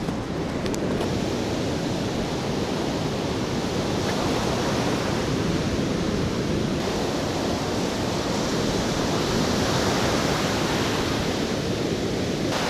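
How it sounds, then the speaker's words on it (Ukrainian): Black Sea surf after a storm at Odesa rolls in as a constant, loud wash of breaking waves, broadband and unbroken with no voices. "Накатна хвиля, це у нас називається"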